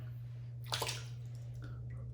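A little water splashes into shaving lather made from Mitchell's Wool Fat soap with a Simpson's Chubby 3 Super Badger brush. It is a brief, close, wet squish and splash over a low steady hum.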